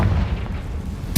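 A Confringo blasting spell detonates in the Hogwarts Legacy video game, a deep, rumbling boom with a sharp, loud burst at the very end; no voices.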